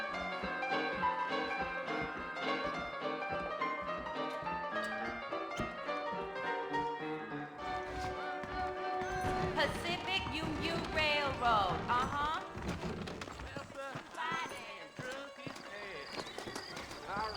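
Horses' hooves clip-clop steadily in the Red Dead Redemption video game. The hoofbeats sit low in the mix beneath a voice and a music score.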